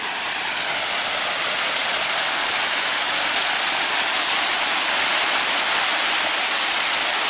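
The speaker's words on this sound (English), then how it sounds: "That waterfall is loud." A loud waterfall pours in a steady, close roar of broadband rushing water that fills the whole clip without a break, with no voices over it.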